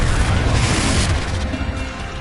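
Confringo, a fire spell in the video game Hogwarts Legacy, goes off as a loud booming explosion with a roaring crackle that holds steady and then eases slightly as it fades.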